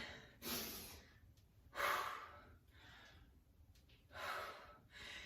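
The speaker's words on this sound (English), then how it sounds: "You can hear my breathing." Heavy, close breathing during interval training: three loud, drawn-out breaths about every one and a half to two seconds, with quieter panting between them.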